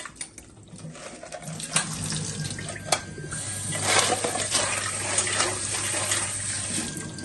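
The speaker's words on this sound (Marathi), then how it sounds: "त्यामुळे स्वच्छ पाण्याने धुवून काढायचे आहेत." Raw crabs are rinsed in clean water under a running tap, with a steady splashing stream and a few sharper knocks and sloshes, recorded close and fairly quiet.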